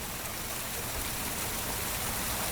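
Artificial waterfall at a tourist site on the Ara Canal, a constant, even rush of falling water heard at moderate distance with no voices.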